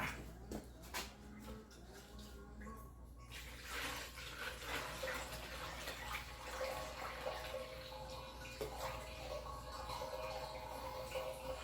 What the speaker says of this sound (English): you just keep pouring it right in there